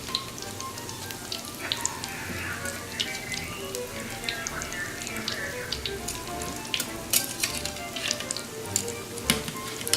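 Crab balls frying in hot oil, a steady busy sizzle with dense crackling pops and spits throughout, close and moderately loud, with no talking.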